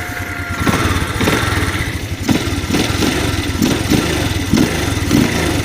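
A Spark 125 moped engine, about three years old, idles quietly and steadily close by, with a rhythmic low putter and faint ticking beats repeating evenly throughout.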